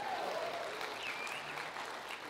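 A church congregation applauds and cheers in a continuous wash of clapping with a few whoops rising through it, held at an even level.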